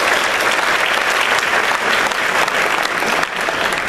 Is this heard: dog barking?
no